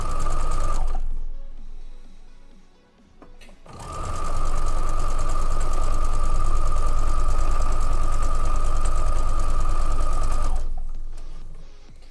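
Sewing machine stitching quilt blocks together, a fast steady mechanical whirring hum that starts, pauses briefly, then runs continuously for several seconds before stopping, close and clear with no talking.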